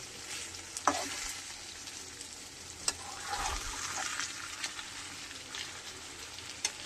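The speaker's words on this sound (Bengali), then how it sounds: "এই যে গলদা চিংড়ির মাথা, এই যে এবারে এটাকে পুরো ভাজা ভাজা করে আমাকে টান টান করে ভাজতে হবে" Giant freshwater prawn heads frying in plenty of oil, a continuous close sizzle and crackle with occasional sharp pops and stirring scrapes.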